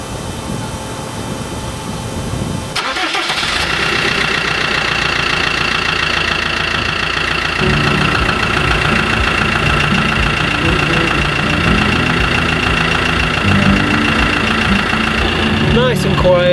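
A car engine with a freshly repaired exhaust, fixed without welding, turns over and settles into a steady, fairly quiet idle that runs on for many seconds close by.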